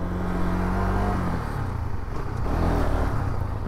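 A motorcycle rides along, its engine droning steadily near the microphone with a low rumble and slight shifts in pitch, no talking over it.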